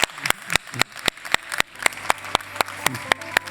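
Sparse clapping greets panelists at a business talk on technology risk: a small handful of hands strike sharp, distinct claps in a loose, uneven rhythm, about a dozen and a half clear hits standing out in a quiet room.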